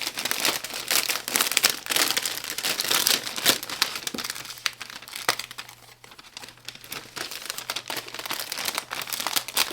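Continuous crinkling and rustling of a plastic bag, close and fairly loud, with irregular crackles and sharper snaps throughout and no talking.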